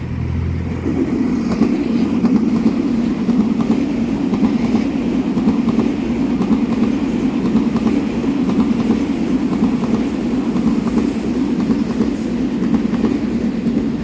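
A twelve-car EMU3000 Tze-Chiang express electric train on Taiwan's eastern line passes close by, a loud, steady rolling roar with a faint rhythmic wheel clatter that holds from start to finish.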